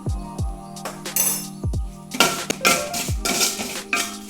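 Spices with asafoetida and salt being sautéed in a pan for beef pickle, with sharp metallic clinks and scrapes of a spoon against the pan between bursts of stirring and sizzling, close and fairly loud.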